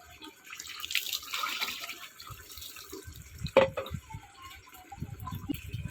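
Water running and splashing during a bath, with intermittent pouring and dripping, moderately close, alongside scattered soft thumps of body movement.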